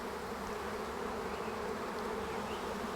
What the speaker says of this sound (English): just to see this many bees en masse